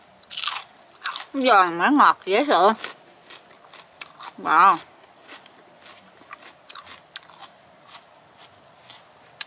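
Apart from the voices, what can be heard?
biting and chewing a sweet pepper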